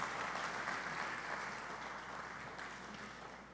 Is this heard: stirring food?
no